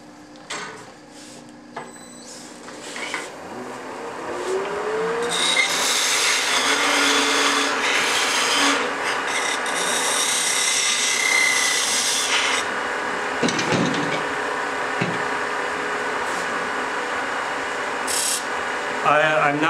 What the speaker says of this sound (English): I'm now taking a skew to make the part of the box perfectly straight and flat.